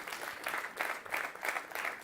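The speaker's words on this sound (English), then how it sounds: "big round of applause for these 2 guys" Audience applause at a live startup pitch competition event, a steady dense wash of many hands clapping with gentle swells, moderately loud and continuous, no voices.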